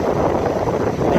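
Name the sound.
wind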